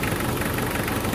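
A warm diesel car engine idles steadily, a dense low rumble with a faint knocking texture running continuously and close by, with no voices.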